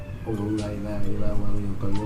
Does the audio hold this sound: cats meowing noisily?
yes